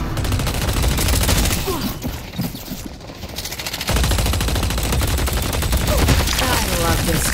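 Automatic gunfire from the video game Deadlock rattles in dense, continuous bursts, briefly easing around the middle before surging loud again, with faint voice sounds buried beneath.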